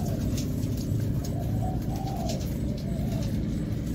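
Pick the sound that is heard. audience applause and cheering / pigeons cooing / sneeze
pigeons cooing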